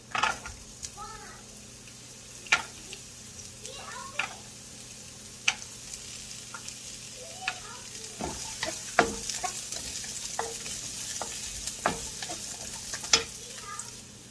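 Julienned carrot and zucchini lightly frying in a pan for Chinese-style fried rice, a soft steady sizzle broken by scattered spatula scrapes and clinks, close and quiet, with a voice talking now and then.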